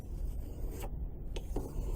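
A knife blade is drawn in short, quiet strokes across 600 grit sandpaper on a strop, giving close, soft rasping scrapes with brief gaps between passes.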